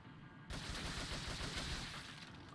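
Dense, continuous gunfire in Resident Evil 4 bursts in suddenly and holds at a steady loud level, a sustained barrage of overlapping shots with no talk.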